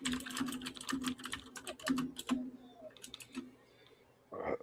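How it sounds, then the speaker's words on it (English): Rapid clusters of keystrokes on a computer keyboard clatter in bursts, close and fairly quiet, pausing briefly before a final flurry, with no talk over them. "You're typing."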